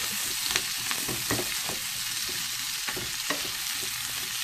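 Rice and chopped bell peppers being stirred together in a pan, a steady close sizzle with soft scraping strokes of the spoon throughout, no talking.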